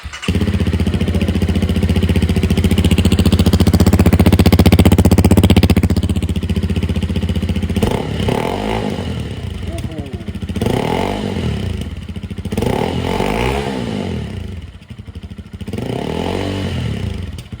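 Honda CRF300L dirt bike with a BikerzBits Motox aftermarket exhaust, loud and close, idling steadily at first, then blipped through a series of rising and falling revs with a raspy, throaty bark.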